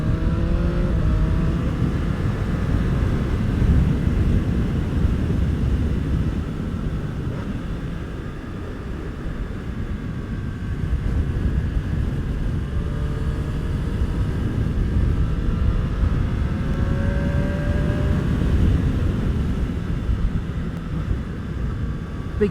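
A Triumph Street Triple RS motorcycle held in second gear on a damp, bumpy road gives a continuous engine drone with gently rising and falling pitch as it rolls along, mixed with steady wind and road rumble.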